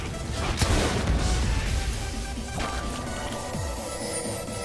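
Cannon fire in an online video game, sharp booming blasts with crashing impacts, one strong hit early and a couple more later, over busy game noise and music.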